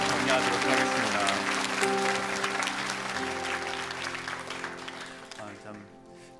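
Church congregation applauding the Tuesday choir team at a Sunday worship service, steady broadband clapping with sustained tones from instruments or voices underneath, slowly fading toward the end.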